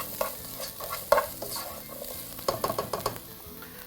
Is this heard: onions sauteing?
yes